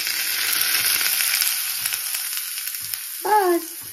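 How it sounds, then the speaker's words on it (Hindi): Hot oil sizzles and crackles steadily with a bright hiss as spices are tempered for an Indian tadka, then a brief louder burst near the end as more goes into the pan. "मैं यहाँ तड़का प्रिपेयर कर रही"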